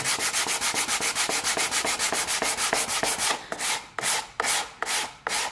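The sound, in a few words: sanding block rubbing glued wooden box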